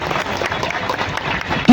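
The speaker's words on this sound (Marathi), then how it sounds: "टाळ्यांचा गजर कमी करून देऊ नका" A crowd applauds at a dahi handi govinda event in Bhayandar: dense, continuous clapping and cheering noise that swells sharply at the very end, where a loud voice cuts in.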